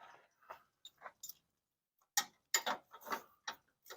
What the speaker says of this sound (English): I think we stick a wrench on here.